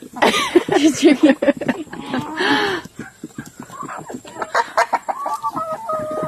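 A rooster crows loudly nearby, with hens clucking and people talking around it in a busy farmyard with many roosters.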